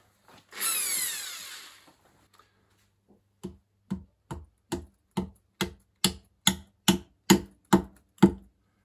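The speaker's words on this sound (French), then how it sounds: "je vais percer un trou et ensuite une cheville" Power drill bores a hole in a wall to fit a wall plug, starting with one whirring burst, then a pause, then about a dozen short, evenly spaced hammering bursts that grow louder.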